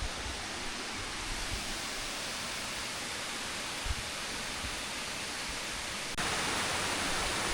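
Water rushing steadily down a waterfall in Norwegian scenery, a broad continuous roar close by that holds level and swells slightly louder near the end, with no voices.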